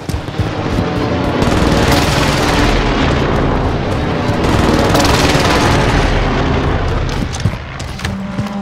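Airstrike explosions and gunfire from the video game Call of Duty Warzone on Rebirth Island, a loud, continuous barrage of booming blasts and rattling bursts with no pause across the whole stretch.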